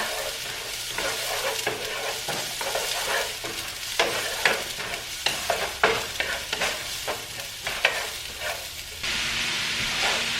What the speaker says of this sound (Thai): หัวหอมใหญ่ซอยนะคะนำไปผัดกับน้ำมันมะกอกนะคะ